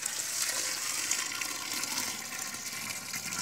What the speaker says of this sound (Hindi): अब इसमें हम पानी डालेंगे, पानी से इसको भर देंगे दोस्तों।